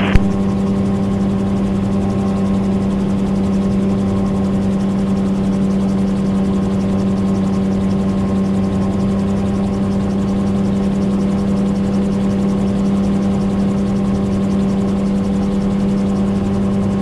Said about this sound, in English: so there's a Shawbury helicopter